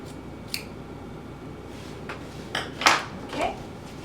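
Scissors snip through fabric seam allowances on a handmade top with leather accents, a few sparse, crisp cuts near and close, with the last two or three louder, no talking.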